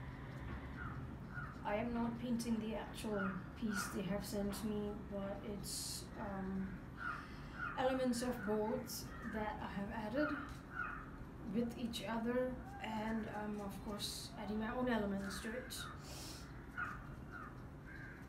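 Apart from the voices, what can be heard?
birds calling outside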